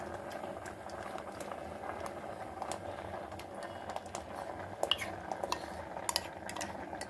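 Thai black rice kheer bubbles over a high flame in a pot, a soft, steady simmer with light clicking and popping, a few sharper ticks near the end, and no talk.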